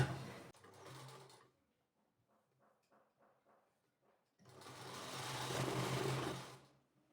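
Sewing machine stitching along the edge of a blouse sleeve, a short run, then a quiet pause with faint ticks, then a longer, louder steady burst of whirring close by.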